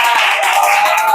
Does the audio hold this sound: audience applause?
yes